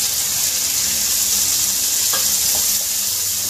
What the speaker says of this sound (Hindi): इसको भी हम अच्छे से हम जब तक फ्राई करेंगे, जब तक ये सॉफ्ट नहीं हो जाते थोड़े